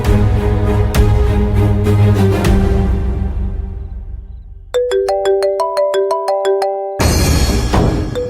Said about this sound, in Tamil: அன்போட அம்மா தான் சார் கால் பண்றாங்க.